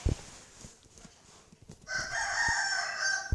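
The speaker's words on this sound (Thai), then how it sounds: "โอ้ยไก่นี่ก็ขันดีเนาะ ขันดีขันดังมาก" A rooster crows loudly in one long, drawn-out call close by, preceded by scattered clucks and knocks.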